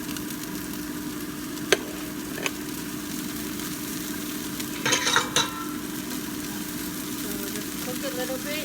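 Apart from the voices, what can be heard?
ginger, garlic and onion frying in oil in a wok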